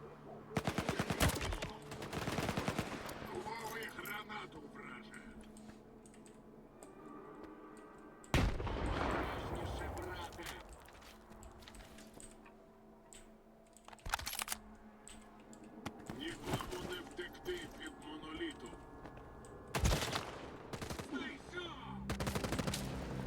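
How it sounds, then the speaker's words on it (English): Gunfire in the shooter video game S.T.A.L.K.E.R. 2: Heart of Chornobyl, with scattered sharp shots and short bursts spread over the stretch, fairly quiet overall beneath soft game ambience and occasional low speech. "Are they shooting each other? No, they're shooting me."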